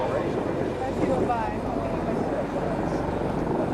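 A loud CV-22 Osprey tiltrotor drone pulses low and heavy overhead at an airshow as it slows to about 50 knots, with wind buffeting and someone talking over the aircraft noise.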